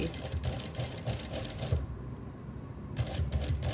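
A sewing machine stitches along the gathered side of a ruffle, its rapid mechanical whirring running steadily, pausing briefly mid-way, then starting again at close range.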